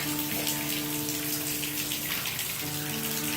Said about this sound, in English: It's only lightly raining right now.